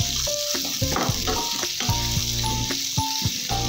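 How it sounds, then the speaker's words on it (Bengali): Spring onions and onion frying in oil, a close continuous sizzle broken by repeated stirring scrapes and clinks of a spatula in the pan, with no talking. "তেলের মধ্যে পেঁয়াজকলি আর পেঁয়াজটা সামান্য ভেজে নেব।"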